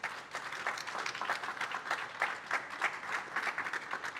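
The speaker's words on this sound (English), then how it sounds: "let's have a big applause for Tim" At a cybersecurity conference session, an audience claps for panel speakers with steady, moderate applause at some distance, thinning in places but continuing throughout.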